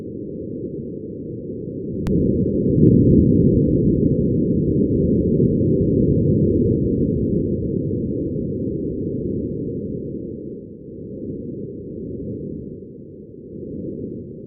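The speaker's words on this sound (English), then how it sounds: "this is the sound of wind on Mars." A steady low rumbling roar of wind on Mars that swells and fades unevenly, with a couple of faint ticks early on, and no voices at all.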